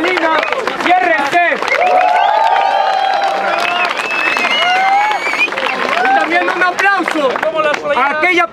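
A crowd at an underground freestyle rap battle in Mexico claps and cheers loudly for the three judges, with a host's amplified voice talking over the sustained applause.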